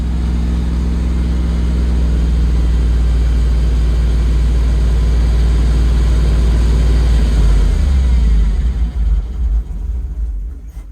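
An old engine runs after starting, a loud low rumble with steady throb that falters and dips toward the end as it struggles to idle, no voices.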